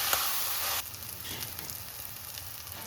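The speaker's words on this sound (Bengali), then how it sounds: "এখন ভালোভাবে কষিয়ে নেব আলু আর টমেটো একসাথে" Potato and tomato fry together in a kadai, starting with a loud burst of sizzling that drops after a moment to a softer, steady crackle with light stirring scrapes.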